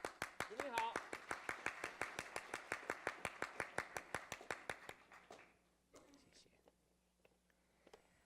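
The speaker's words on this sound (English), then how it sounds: "With our applause, ladies and gentlemen." Rhythmic hand clapping from a crowd at an anniversary opening ceremony, steady and fairly loud for about five seconds, then fading into quiet room noise with a few scattered claps.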